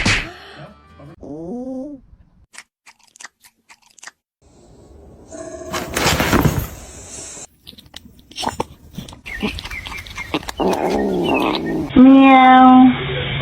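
A cat meows several times, with drawn-out rising and falling cries. In between come crunching, chewing sounds and rustling, and a voice speaks briefly.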